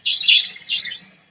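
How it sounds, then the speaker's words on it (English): A savanna nightjar calls up close with two loud, buzzy, high-pitched rasping notes, each about half a second long and separated by a brief pause. "the savanna nightjar, Captimurus affinis, that incessantly calls in flight, especially at dusk and at the beginning of the night"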